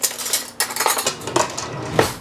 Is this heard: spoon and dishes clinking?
yes